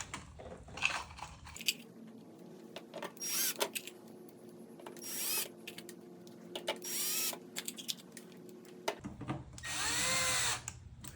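Short bursts from a power drill driving screws through a metal hinge plate into a plastic blocker plate, several whirring spurts of one to two seconds separated by quiet pauses, close by with small clicks and handling noise between.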